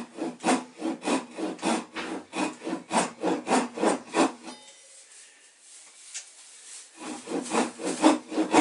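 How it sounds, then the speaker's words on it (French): A Japanese pull saw cuts a vertical slot about 1 cm deep into wood, giving a steady run of rhythmic rasping strokes up close, then a pause of near silence before the sawing resumes. "Et tu scies bien verticalement."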